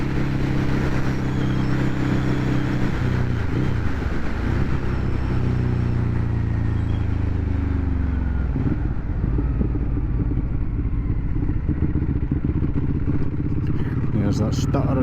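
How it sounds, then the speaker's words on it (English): A Ducati Hypermotard 821 motorcycle engine chugs and stutters at low RPM, a continuous close rumble with uneven pulsing and shifting pitch while riding, with wind noise. "There's that stuttering at the low RPMs."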